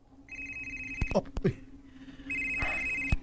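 A cellphone rings in a Cebuano radio drama, two bursts of steady electronic ringing separated by a pause, with a short spoken exclamation and some knocking sounds between them.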